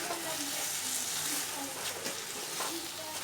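Fried taro pieces dropped into cooked-down spice paste in a pan for kochur dom, a loud steady sizzle with stirring scrapes throughout.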